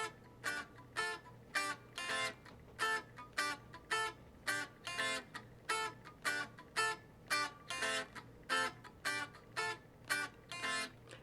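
An electric guitar plays a chord riff, sounding as steady, evenly spaced rhythmic strums that repeat without pause at a moderate level, with no voice over them.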